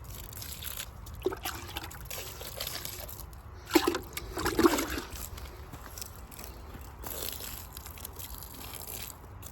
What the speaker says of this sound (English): let me give them some water